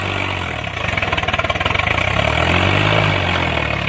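A tractor engine labours under a trolley loaded with about 60 quintals of sugarcane, a steady low diesel drone with a pulsing beat swelling around mid-clip, close and continuous with no talk.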